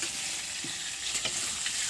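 Chopped cabbage frying in hot oil in a pan where potatoes were fried, a dense close sizzle with a few stirring knocks over two seconds, no talking.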